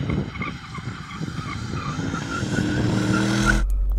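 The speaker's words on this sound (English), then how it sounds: "Are we donutting or do you just want skids?" An Audi RS6's tyres skid with a rising, sustained squeal over a growling engine, building louder before cutting off abruptly near the end.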